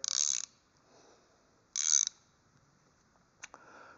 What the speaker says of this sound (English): Not a bad ratcheting.